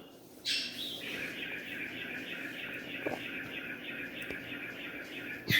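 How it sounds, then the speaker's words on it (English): A pet budgie chirping and warbling in a steady high twittering stream indoors, close and fairly loud, with a low background hum and no talk. "my budgie is just loving it. He's loved being heard on, loved being expressing himself on this episode"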